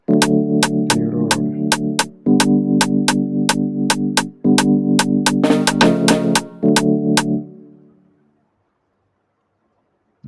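AfroBeat drum loop programmed in FL Studio Mobile, with steady hi-hat ticks over layered snare and percussion hits and sustained low tones, repeating in a tight groove for about seven seconds before cutting off into silence.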